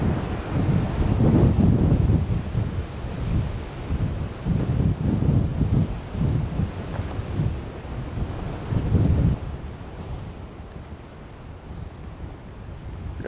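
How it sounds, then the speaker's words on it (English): Wind gusts outdoors around a wild roan mustang, loud rumbling buffeting across the microphone that surges in waves and eases toward the end. "Oh, the wind's blowing."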